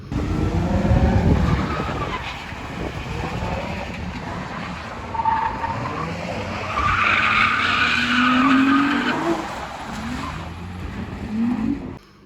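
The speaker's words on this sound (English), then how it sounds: "the first thing we noticed was the drifting cars, and there must have been a drifting lesson as well available" Cars drifting at Mondello Park race track, tires squealing and skidding in long sweeping slides with engines revving, moderately distant and continuous, swelling and fading as cars pass.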